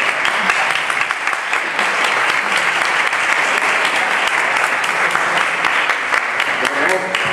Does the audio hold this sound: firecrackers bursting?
no